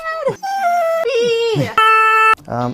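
A dog's drawn-out, wavering howls with sliding, sing-song pitch, several rising and falling cries in close succession, loud and near.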